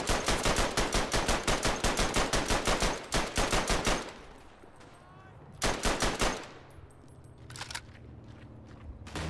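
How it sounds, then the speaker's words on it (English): Bursts of machine-gun fire from a World War I German weapon in the Verdun video game, a long rapid string of loud close shots, a pause, then two more shorter bursts. "We have a machine gun."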